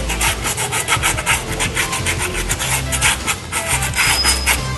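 Sandpaper rubs back and forth on a front brake part of a Honda Activa scooter, a loud, close, rhythmic scraping that continues steadily throughout.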